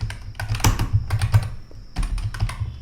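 Code for a simple decentralized app typed on a computer keyboard, a dense, loud, close run of rapid keystrokes, pausing briefly before another quick burst, no talk.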